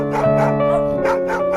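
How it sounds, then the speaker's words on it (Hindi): Dogs bark in a scary setting, loud and close, with a few yaps and whimpers over a steady tonal music drone. "अबे, मेरे ऊपर क्यों भौंक रहे हो?"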